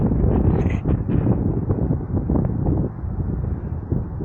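Strong wind buffets the microphone on an exposed mountain ridge near the Schwärzenkamm via ferrata above Obergurgl, Austria, a loud continuous low roar with gusty surges throughout, no voices.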